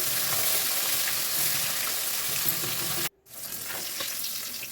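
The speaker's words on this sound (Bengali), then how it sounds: "এবার দিয়ে দিচ্ছি মাছগুলো একবারে সব মাছ দিতে পারবো না বারে বারে মাছগুলোকে ভেজে নিতে হবে মাছগুলো বেশ কড়া করেই ভাজবো" Fish frying in hot oil, a few pieces at a time so they cook crisp, gives a loud, steady, close sizzle that drops out briefly near the end and then resumes.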